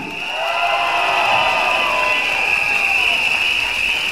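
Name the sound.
rally crowd applauding and cheering for Ong Teng Koon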